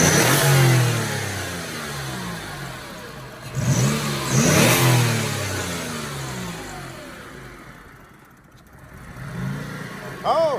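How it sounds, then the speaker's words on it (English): A turbocharged project car, its nitrous system being removed, gets revved in a garage: several rising engine bursts swell and fade. Someone talks over them, and the engine winds down near the end. "let's get some engine revs"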